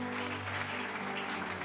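A church congregation applauds in a steady, distant wash of clapping that lasts under two seconds, fairly faint, with no break.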